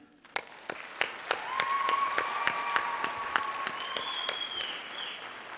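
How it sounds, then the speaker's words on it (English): A middle school holiday concert audience applauds the advanced band, sustained clapping with distinct louder claps and a few whoops, while a higher tonal sound briefly carries over the crowd. "Please give a round of applause to introduce the advanced band."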